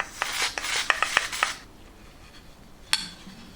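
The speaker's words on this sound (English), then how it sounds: "Just got to scrape this residue off because this is the part of the mixer that needs to rotate freely" Residue being scraped by hand off a brass kitchen sink mixer part, a quick series of close, sharp rasping strokes for about a second and a half, then a pause and one more scrape.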